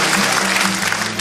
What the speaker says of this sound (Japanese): 温かいご同情の拍手をありがとうございます。